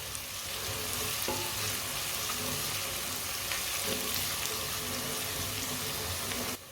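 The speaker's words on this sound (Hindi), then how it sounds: "लहसुन को भी 1-2 मिनट के लिए मैंने पका लिया है" Garlic cooking in a pan for a shalgam (turnip) dish gives a steady, close sizzle and hiss with a few soft stirring knocks, continuous throughout and with no talking.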